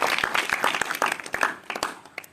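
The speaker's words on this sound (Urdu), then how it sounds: "خداوند یسوع مسیح کے لیے ایک دفعہ زوردار تالیاں بجائیں۔" Church congregation clapping loudly during an Urdu-language sermon about Jesus Christ, a dense burst of many hands at close range with sharp individual claps standing out, fading slightly toward the end.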